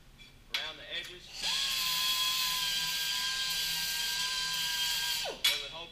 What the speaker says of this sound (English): just true that up a little bit using the belt sander around the edges